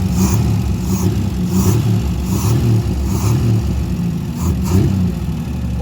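A car engine revs repeatedly as gas is given, rising and falling in a regular pulsing rhythm over a steady rumbling idle, close and loud with no talking.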